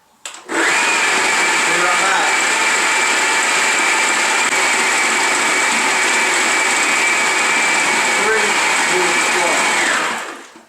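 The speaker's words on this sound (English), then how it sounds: "It's been mixing for about 2 minutes, whipping actually." Electric mixer whipping a lumpy peanut butter ball mixture, a steady loud motor whine with a high tone that starts abruptly, holds evenly for about ten seconds with slight load changes, then winds down.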